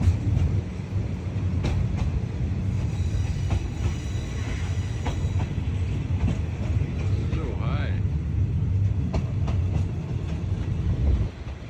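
A train travelling from Ayutthaya toward Pak Chong in Thailand rumbles steadily along the rails, with rhythmic clacks and a faint squeal of wheels over continuous low noise.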